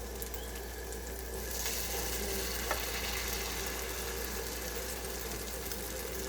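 Egg foo young portions fry in a pan with a steady, close sizzle that holds evenly throughout, broken once by a faint clink and with no talking.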